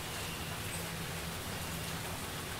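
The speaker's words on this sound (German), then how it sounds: "Der Regen ist recht dominant, deshalb regle ich ihn hier mal ein bisschen runter." Rain sound effect from a tabletop game ambience, a steady uniform hiss of falling rain, quiet and continuous with no breaks or other sounds.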